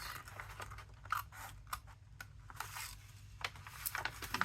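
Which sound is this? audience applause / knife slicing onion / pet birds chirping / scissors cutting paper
scissors cutting paper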